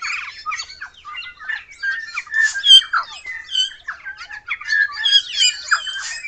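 Busy, bright wild bird calls on Tiritiri Matangi Island fill the air continuously, a mix of chirps, squawks and warbled notes from several birds, with no other background noise.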